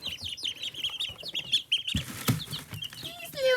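Ameraucana and Rhode Island Red chickens cluck and chirp in a steady stream of short calls, joined by khaki ducks, with a louder rustling burst midway and chirping continuing near the end.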